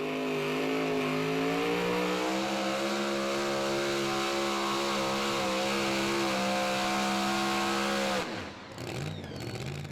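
A two-wheel-drive pulling truck roars at full throttle during a 2016 Pro Pulling League truck pull in Saluda, South Carolina, a loud sustained engine howl for about eight seconds before it abruptly cuts off, leaving quieter crowd and ambient noise.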